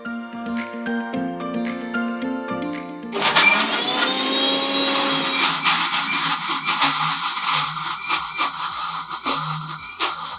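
Kitchen mixer grinder whirring loudly as it grinds black masala, a steady high-pitched motor roar starting abruptly after a few seconds of music and continuing to the end.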